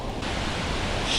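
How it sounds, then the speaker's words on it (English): Rushing water from a waterfall, a steady broadband roar with no breaks, loud and close, heard alone for about a second. "Is that another waterfall or what? Sounds like it."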